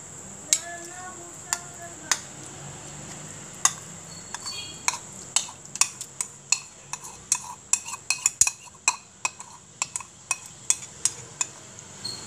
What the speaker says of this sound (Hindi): दूध बॉईल हो गया है अब हम इस पर अपने चावल डालेंगे